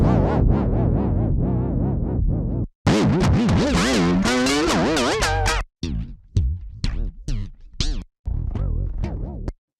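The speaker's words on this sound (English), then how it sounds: "as most modelers do, it sounds like some alien spaceship landing. It's got some ticks at the beginning and the end for calculating delay" An amp modeling test signal plays loud and close: a dense burst of pulsing tones, then sweeping, warbling pitch glides like an alien spaceship landing, then choppy chirps and ticks broken by brief silences.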